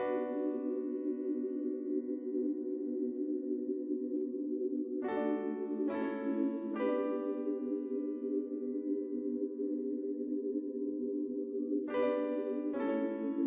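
A piano melody layered with a soft synth pad plays slow sustained chords, with a few brighter accented notes struck over the held tones, steady and alone without voices.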